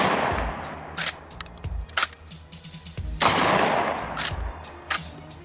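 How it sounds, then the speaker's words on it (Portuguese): Gunfire from the M1887 lever-action two-shot shotgun in the Free Fire video game, a rapid series of sharp blasts and clattering reports of varying loudness, with a few heavier booms standing out. "é uma potente escopeta de 2 tiros"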